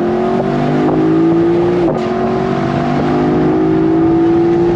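A 2023 Lexus LC 500 V8 is pulling hard in second gear from about 3,500 rpm. The loud engine note climbs steadily with a rising harmonic drone, dips briefly at a momentary lift, then carries on strong.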